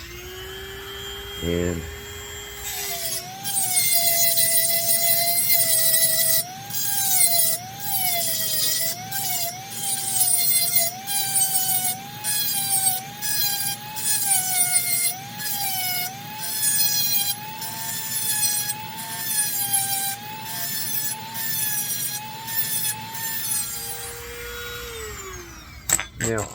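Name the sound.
Dremel rotary tool with grinding stone on a shotgun chamber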